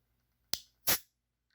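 A can of Pocari Sweat cracks open with a sharp click followed by a brief, bright hiss of escaping gas, close up and isolated in quiet.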